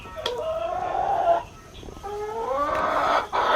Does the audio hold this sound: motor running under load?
no